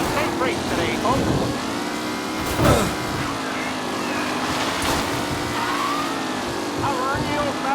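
Race car engines drone and whine steadily through a race in Mafia Remastered, with shifting engine pitches from several cars and a brief louder pass, while a commentator's voice talks over them.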